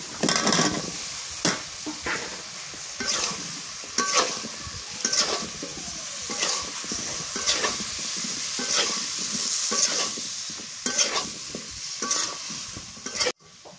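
Cauliflower pieces hit a hot pan of spiced oil in a village-style Bengali kitchen, sizzling and frying loudly while a spoon stirs in repeated scraping strokes, with no talking.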